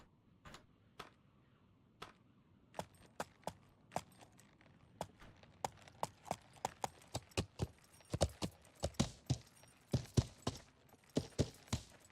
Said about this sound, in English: That horse sound always scares me.